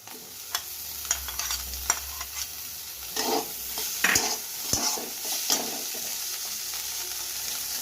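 Boiled potatoes frying in a pan, stirred with irregular scraping clicks over a low, steady sizzle, close and moderately quiet with no talking.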